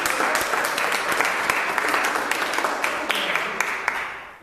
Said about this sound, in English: Let's give Kelly a round of applause.